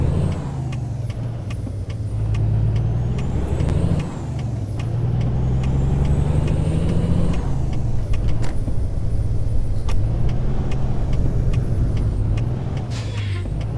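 A heavy truck in American Truck Simulator drives along with a steady diesel drone that rises and falls through gear changes, with a brief air-brake-like hiss, loud and continuous with no talk.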